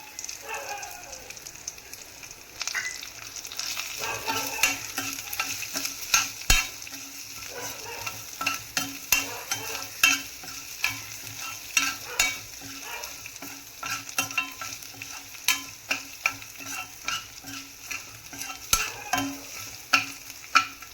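Crushed garlic and a little ginger roast in hot oil in a pan, a continuous close sizzle broken by frequent sharp spatula scrapes and taps against the pan, growing busier as stirring continues, with no talking.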